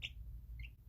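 A pet chick in a brooder gives two short, high chirps about half a second apart, quiet and close, with no talking over them.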